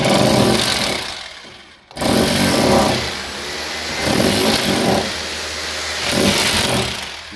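Rotary hammer chiselling channels into a wall for wiring, loud close bursts of harsh, buzzing hammering in about four runs separated by short pauses, with no voices.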